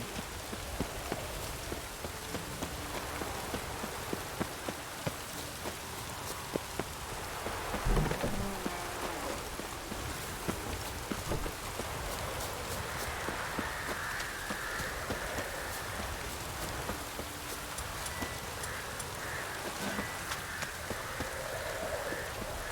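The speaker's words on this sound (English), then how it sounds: "Looks like rain." Steady rain falls throughout in the video game The Witcher 3, a dense hiss of drops on surfaces with a faint low rumble near the middle, and no voices over it.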